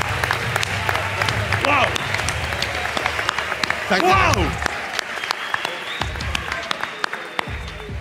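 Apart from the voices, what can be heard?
audience applause at a live event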